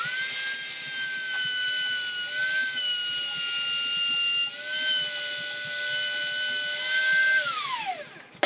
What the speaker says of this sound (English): It's all put together just routing the slots. This is a 1/2 inch router bit.